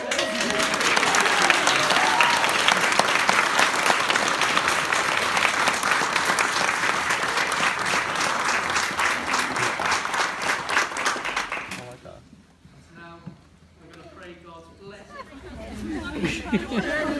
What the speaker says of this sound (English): Should we give a round of applause?